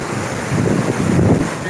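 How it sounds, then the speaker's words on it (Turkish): Choppy sea waves wash and churn under strong wind buffeting the microphone on a stormy day by the sea in Istanbul, a steady rough roar with no speech. "hava işte gördüğünüz gibi denizlerde böyle dalgalı"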